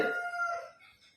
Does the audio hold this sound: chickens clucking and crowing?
yes